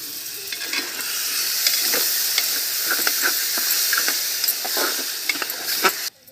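A ginger and garlic paste ground with cinnamon, cardamom and star anise hits a hot pan for Nayagadia-style mutton curry, giving a loud, dense sizzle with stirring scrapes that cuts off abruptly at the end.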